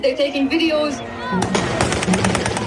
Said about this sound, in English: What you're hearing right now are not bullets, actually. They're just more like fireworks.